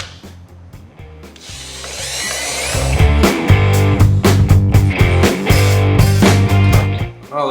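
Power drill bores into a seized bolt pinning a D-ring on a wrecker body: a steady whining, grinding drone that ramps up after a brief start and runs continuously, loud and close, with metallic rubbing.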